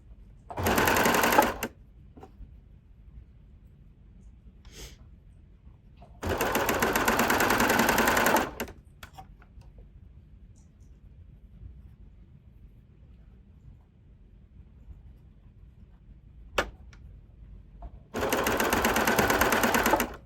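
A sewing machine overstitches upcycled clothing in three separate loud, close runs of rapid needle chatter, each lasting a second or two, with quiet pauses and faint handling clicks between them.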